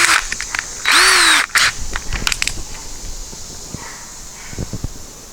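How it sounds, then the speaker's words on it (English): A power drill with a 3/8-inch bit bores into a rotten cargo trailer door, a loud whirring burst of about half a second followed by scraping and knocking handling sounds. "So we'll start with a 3/8 drill bit right there."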